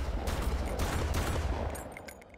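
Several quick bursts of gunfire sound in the video game Far Cry 1, with a low rumbling bed underneath that fades toward the end.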